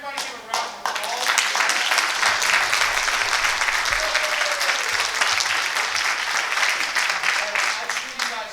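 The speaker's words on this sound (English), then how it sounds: "Everybody give a round of applause." After a few sharp opening claps, an audience at a speaking event breaks into loud, sustained applause, a dense wash of clapping that carries on for several seconds with voices and cheers mixed in.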